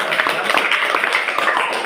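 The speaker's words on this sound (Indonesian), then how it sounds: "Kasih tepuk tangan sekali lagi kepada kelompok 1" Students in a classroom clap for a presenting group, a dense, steady patter of hands throughout with no gaps.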